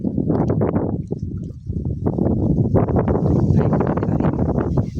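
Strong wind at a scenic spot in Barili, Cebu buffets the microphone in continuous gusty rumbles, rising and falling with no voices.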